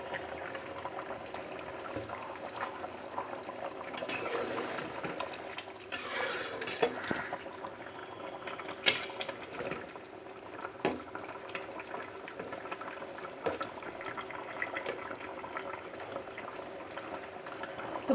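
Beef curry broth boiling in a pot while cooking a traditional Bengali mezbani beef curry, a steady bubbling simmer with occasional sharper clinks and splashes, close and continuous throughout.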